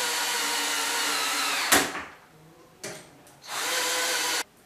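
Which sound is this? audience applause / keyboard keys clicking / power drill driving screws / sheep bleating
power drill driving screws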